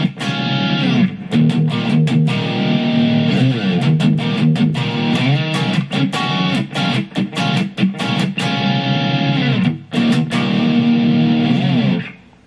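An electric guitar played through the distortion of a NUX MG-300 multi-effects unit with hall reverb, a loud, crunchy driven tone of chords and riffs with short gaps and stops, alone throughout and ringing out at the end.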